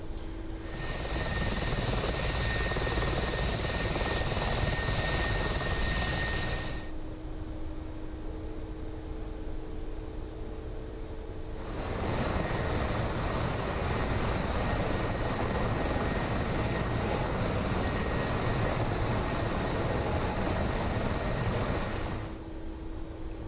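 A Mi-24P Hind attack helicopter in the DCS flight simulator flies low between buildings, its rotors and engines roaring in a steady, loud drone that dips briefly midway before the full roar returns.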